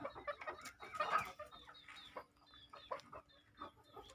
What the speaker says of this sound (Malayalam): നല്ല ലൈനേജ് കോഴിയാണ് കേട്ടോ